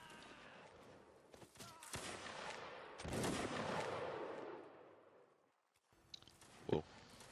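Musket volleys crackle through a Napoleonic Wars line battle in a game, a dense rolling burst of gunfire that swells and fades, followed after a brief lull by a few isolated nearer shots.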